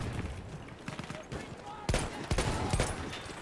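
Gunfire in Battlefield 1 gameplay: rapid bursts of distant and nearer shots crackle over a constant background roar of battle, with a sharper report partway through and someone talking quietly beneath.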